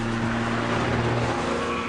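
A Ferrari 430 Scuderia driving on the road, its engine a loud, steady, unbroken drone heard close and alone for a short stretch.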